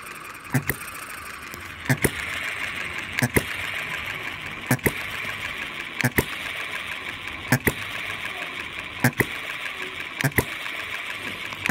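A Musa HM-01 hit-and-miss model engine runs slowly and steadily. Sharp firing knocks come at regular intervals of about a second and a half over a continuous mechanical whir.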